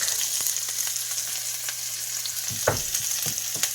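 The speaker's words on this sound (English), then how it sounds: "we're gonna start sauteing our seasoning. So I'm adding the onion, I'm adding my garlic" Onion and garlic sauté in a hot pot for Jamaican seasoned rice, a steady close sizzle running throughout, with a few louder stirring clatters and scrapes near the end.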